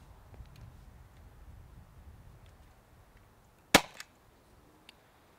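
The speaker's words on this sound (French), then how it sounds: "je vais effectuer seulement 3 tirs pour vérifier les vitesses à cartouche à charge pleine de sparklette" An Umarex OPsix pistol powered by a full sparklette CO2 cartridge fires a single sharp, close pop amid a quiet background, followed by a faint rattle and a small click.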